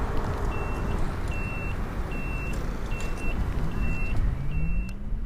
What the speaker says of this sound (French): le bip des clignotants, ça fait un peu radar de recul quoi